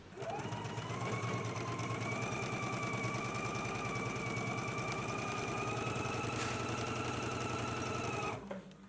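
A sewing machine runs a continuous, fast stitching rhythm at an even speed while sewing the shoulder and side panel seams of a jacket, close and loud, stopping abruptly near the end.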